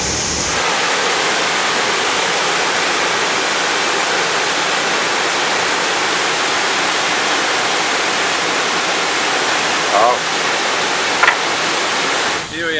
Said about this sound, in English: This is Tad Huang Waterfall.